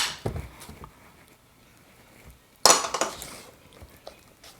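Tiramisu cream being mixed in a bowl with vanilla extract added: scattered clinks and scrapes of a utensil against the bowl, with a louder clattering burst partway through, close and fairly quiet.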